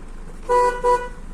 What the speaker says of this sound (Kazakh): Сигнал воздушный.